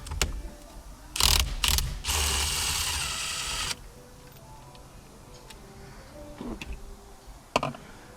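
A ratchet with a 21mm socket loosens a bolt on a 2012 Hyundai Elantra, giving close bursts of rapid mechanical clicking and grinding with a few sharp clicks and quieter handling noise afterward.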